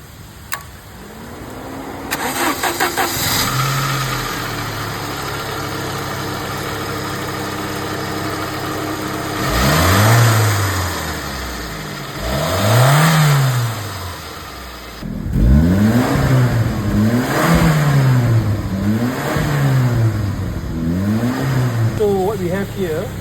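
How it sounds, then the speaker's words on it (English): A 1989 Saab 9000 Turbo Carlsson cranks and catches, settles into a steady idle, then revs up and down in a series of close, loud rises and falls, with quick repeated blips toward the end. "Okay, so Brandon is going to turn the car over now, the engine."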